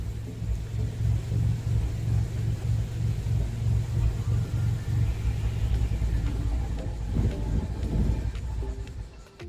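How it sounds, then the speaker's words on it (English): A Ford EcoBoost car engine idles with a steady low rumble that roughens and falters toward the end as the fuel runs out. "The car will die on its own."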